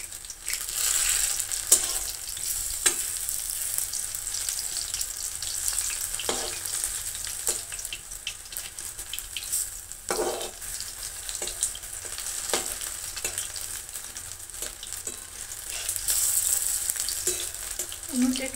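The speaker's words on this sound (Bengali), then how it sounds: "পকোড়াটা ভাজা হয়ে গেছে" Fenugreek leaf pakoras frying in hot oil over a strong flame, a steady bright sizzle running throughout with occasional crackles and pops.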